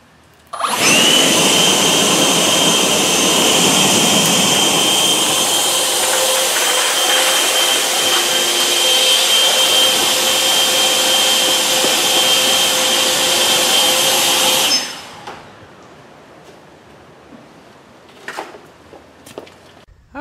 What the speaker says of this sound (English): put it on full throttle and cruise control and see how far it goes.